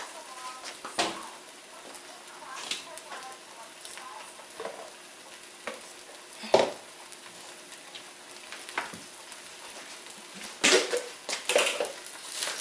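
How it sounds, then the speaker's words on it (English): Eggs stirred and frying in a pan for pad thai: a soft sizzle runs underneath while a utensil scrapes and clinks against the pan in irregular, sharp knocks. "So I'm stirring the eggs."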